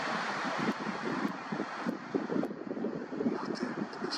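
Steady wind roars and gusts against the microphone, a continuous rushing noise rising and falling without any voices.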